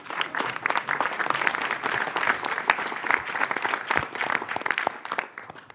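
Meeting attendees applauding together in a room, a lively, uneven burst of many hands clapping that holds steady for several seconds and eases slightly at the end.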